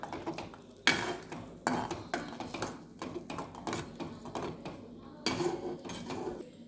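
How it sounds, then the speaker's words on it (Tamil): Stirring egg fry in a pan on low flame: repeated metal spatula scrapes and clinks against the pan in irregular strokes, close and fairly clear, with no talk over it. "இப்படி கிண்டிட்டு லோ ஃப்ளேமில் வச்சு கிண்டலாம்"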